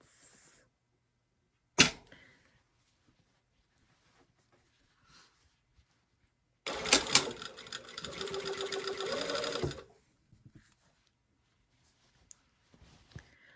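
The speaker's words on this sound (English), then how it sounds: "I'm now going to be sewing the waist to the waistband to the waist of the skirt at 5/8 of an inch seam allowance." A sewing machine stitches a skirt's waist to its waistband, with one sharp click followed later by a steady burst of about three seconds of close, rapid whirring and clatter amid otherwise quiet pauses.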